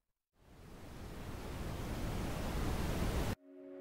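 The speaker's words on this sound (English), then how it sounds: "Brown noise is the same as pink noise, but it decreases the amplitude even more, producing a low rumbling sound." Brown noise, a deep, steady rumbling hiss that rises in from silence and holds for about three seconds before cutting off abruptly.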